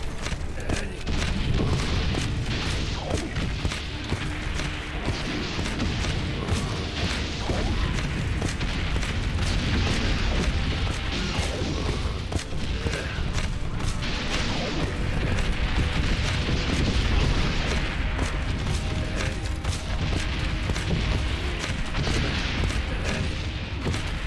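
Continuous dense rumbling explosions and booming shellfire from the WWI video game Valiant Hearts: The Great War, a loud, unbroken barrage with overlapping blasts and no clear gaps throughout.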